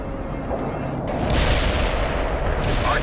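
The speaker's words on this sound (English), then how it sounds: "Artillery barrage hit for full effect." A heavy artillery barrage lands in the video game World in Conflict, a loud rolling roar of explosions with bursts swelling one after another over a constant rumbling bed.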